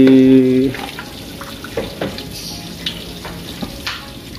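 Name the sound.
cempedak fruit deep frying in oil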